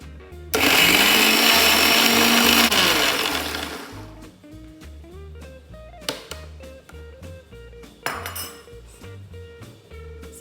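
A mixer grinder whirs loudly through a chutney of coriander leaves and salt for about three seconds, then winds down. Clinks of the jar and utensils follow at intervals.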